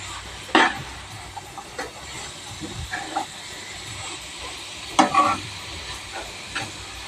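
Carrot rice frying in a pan, stirred now and then: a spatula scrapes and knocks against the pan in scattered strokes over a soft continuous sizzle, close up.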